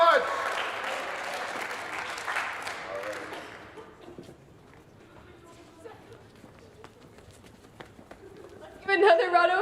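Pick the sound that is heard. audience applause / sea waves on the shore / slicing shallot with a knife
audience applause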